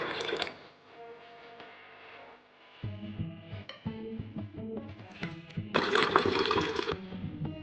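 Lentils (dal) washed in water, with sloshing, swirling and dripping sounds plus soft clinks against the bowl, growing louder toward the end as the water is stirred and poured off.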